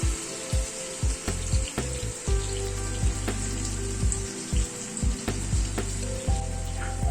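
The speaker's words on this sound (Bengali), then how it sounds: "গরম জল বাটিটাকে ভালো করে ধুয়ে এই জলটা অ্যাড করে দিলাম ওপরে" Hot water poured over Rohu fish in a hot pan sets off a loud, steady sizzle and bubbling, punctuated by sharp clicks and taps throughout, close and alone with no voices.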